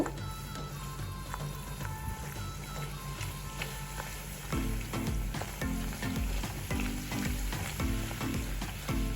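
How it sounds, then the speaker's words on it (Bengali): Luchi flatbread frying in hot oil over a high flame makes a continuous crackling sizzle that swells louder partway through as the dough is pressed and puffs, with faint clinks. "এটা কিন্তু ট্রিক্স লুচি ভাজা দেখো ধীরে ধীরে লুচিটা ফুলে উঠছে"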